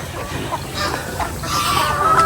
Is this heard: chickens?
yes